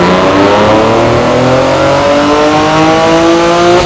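Flex-fuel Nissan Z making about 500 wheel horsepower on small turbos, running E40 at roughly 18 PSI, revs hard and loud with a steadily climbing engine note over several seconds.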